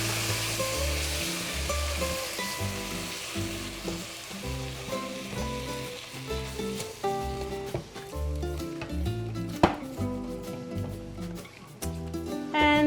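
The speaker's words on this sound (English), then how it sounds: "So here I have our milk. We're gonna pour it in slowly." Milk poured slowly into a flour mixture for gravy at a cooking demonstration, heard as a steady sizzling, bubbling hiss under clinking utensils, continuous and close, with no speech.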